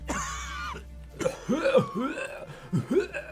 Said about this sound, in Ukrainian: обережно, діду, зараз помрете просто від кашлю